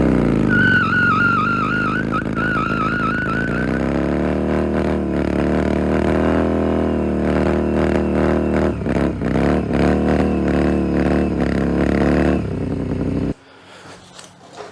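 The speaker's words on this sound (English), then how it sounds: "I think it's time to do like a bit of a burnout or something" A Yamaha XV750 Virago bobber's V-twin revs hard and holds high during a burnout, with wavering pitch, loud close engine roar and a rasping tyre scrub, before it cuts off abruptly near the end.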